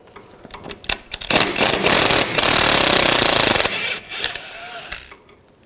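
Bolts come off a 2000-2006 BMW X5 front suspension under an E12 socket on a power tool during ball joint work, with a few metallic clicks leading into a loud, sustained rattling burst lasting a few seconds, then clatter as it stops.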